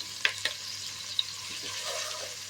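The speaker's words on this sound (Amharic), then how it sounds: "እንደዚህ በደንብ እንጠብሰዋለን ማለት ነው።" Vegetables fry in a pan for an alicha stew with a soft, steady sizzle. A few sharp clicks of a utensil against the pan break through early on.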